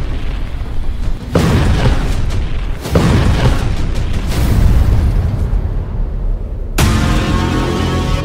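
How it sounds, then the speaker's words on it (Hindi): A submarine blows up at the Russian naval base of Novorossiysk, with three heavy booming blasts at uneven gaps, each a sudden loud burst that rolls into a long rumbling roar. "ये धमाका देखिए"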